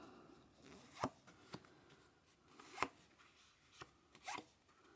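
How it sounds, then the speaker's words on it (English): Quiet handling of a new Phantomwise tarot deck as the cards are cut and dealt: several soft, sharp card slaps and slides spaced irregularly over near-silence. "We're just going to cut and deal"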